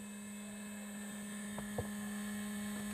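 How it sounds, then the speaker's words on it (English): Aircraft landing gear retracting on a demonstration rig gives a steady, close mechanical whine and hum with a couple of faint clunks partway through. "You have seen that the landing gears have now fully retracted."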